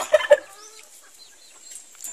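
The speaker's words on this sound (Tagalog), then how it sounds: "Ito yung babae na paba." Two short, loud clucks from a female turkey close by on a farm, then quiet with faint bird calls in the background.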